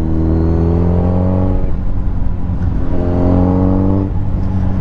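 A motorcycle cruising at slow speed gives a steady, close, loud engine drone with a low rumbling tone that eases briefly and settles back, with no talk.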